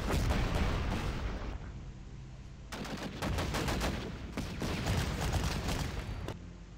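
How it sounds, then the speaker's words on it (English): A flak gun in a WWII wargame set at the Stalingrad docks fires in long, loud automatic bursts with brief pauses between them, set against a constant battle roar. "Flak gun."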